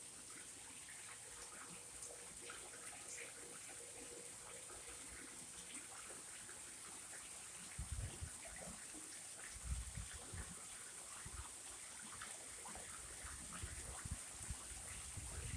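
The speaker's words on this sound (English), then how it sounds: "There's our waterfall." A backyard waterfall splashes in a steady, faint wash of running water, with a few louder gushes now and then and no speech.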